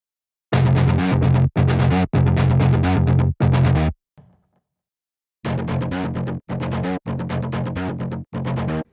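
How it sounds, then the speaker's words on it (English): A virtual guitar instrument on a high-gain distortion preset plays loud, thick chugging chords in short bursts, with a brief ringing tail and a gap of silence midway before the riff resumes. "I'm going to go with distortion rather than fuzz and see how some of these sound."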